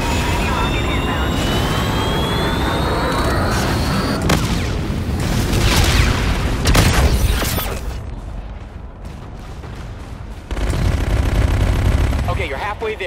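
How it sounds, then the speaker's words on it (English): A Trinity rocket strike in Call of Duty: Infinite Warfare, heavy booming blasts and roaring jet-like rushes with rattling gunfire, loud and dense for several seconds, with in-game voices over the barrage. "Trinity rocket inbound."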